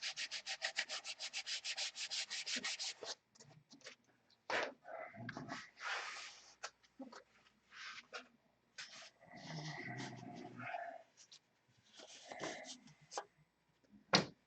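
Someone hand-sands a wooden piece outdoors. Quick, rhythmic rasping strokes run for about three seconds, followed by scattered bursts of scraping and rubbing with short pauses between them.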